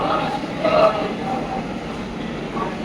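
Gitanjali Express train at Nagpur station, a steady rumble of rolling coaches and rail noise running throughout the platform ambience, with a person talking over it.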